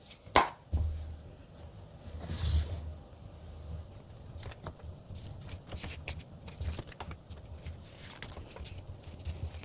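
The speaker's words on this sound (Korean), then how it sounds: "현재 관계 상황은 어떤지부터 카드를 한번 뽑아보도록 할게요" Tarot cards are shuffled and drawn, producing faint papery riffles, soft slaps and light taps scattered across a quiet room with no speech.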